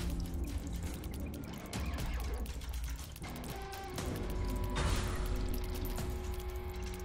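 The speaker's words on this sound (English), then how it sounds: "It's gonna actually flush the regular poops." A toilet flushing in The Binding of Isaac, a rushing, gurgling water sound that swells partway through and runs steadily over busy game audio and music, with no talk.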